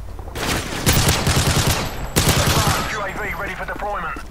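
A weapon in the Call of Duty Modern Warfare 3 video game fires two loud bursts of rapid automatic gunfire, close and dense, with a voice talking over the shooting.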